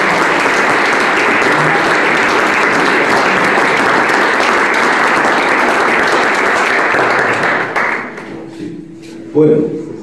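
Audience applauding after a song at a live folk performance, sustained dense clapping for about eight seconds that then fades to scattered claps and a few quiet sounds.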